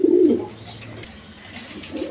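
A pair of pigeons, a black hen among them, coos loudly and close at the start, then falls quiet, and a softer coo returns near the end.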